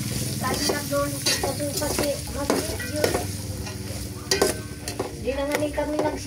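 Vegetables sauté in a pan for macaroni sopas, giving a steady close sizzle. A utensil stirs and scrapes against the pan in frequent rhythmic strokes throughout.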